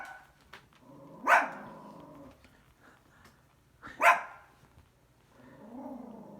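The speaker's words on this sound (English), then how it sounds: "Come see the little basset hound." A basset hound puppy gives two loud, separate barks about three seconds apart, with quieter whimpering sounds between them and a soft growl or whine at the end.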